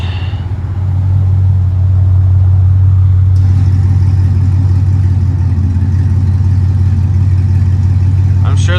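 A Cadillac CTS-V idles with a new exhaust, valves closed: a steady, deep low rumble that holds close and loud throughout, with a faint voice briefly audible near the end.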